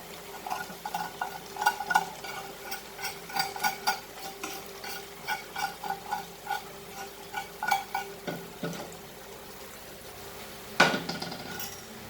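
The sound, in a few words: stirring prawns with curry leaves in a pan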